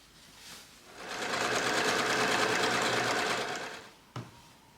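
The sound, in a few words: sewing machine stitching a French seam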